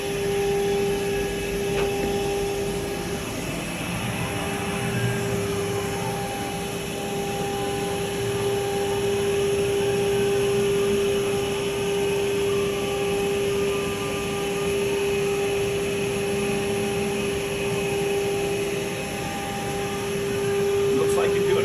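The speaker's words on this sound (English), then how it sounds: "So as soon as I hit cycle start, it's going to pull up the program and then start engraving." A CNC machine engraving a NASA logo into a workpiece in a manufacturing shop runs as a steady, loud whine and hum with a sustained tone, continuous throughout, with voices talking over it.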